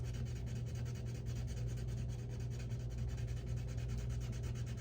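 Derwent Artist coloured pencil rubbing across paper, a steady, close, sandy and gritty scratching that continues without pause, with no one talking over it.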